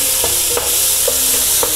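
Salted puttu mixture for egg puttu is stirred in a frying pan, giving a loud, close, steady sizzle broken by several short scraping strokes.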